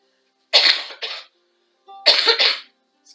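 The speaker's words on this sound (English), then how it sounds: "I'm sorry about the coughing." Two close, sharp coughs during a beginner yoga class, each a quick double burst, separated by a short pause in an otherwise quiet room.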